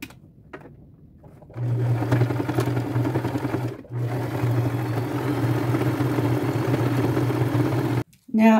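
A sewing machine runs a straight stitch across fabric to hold down a bag piece, its steady whirring motor running close by in two long runs separated by a brief pause, with a short click at the end.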